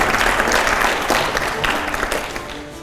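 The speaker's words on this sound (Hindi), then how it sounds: "क्या बात है, जोरदार तालियां हो जाए।" Loud, dense applause from an audience at a Kumar Vishwas talk fills the whole stretch, tapering slightly toward the end.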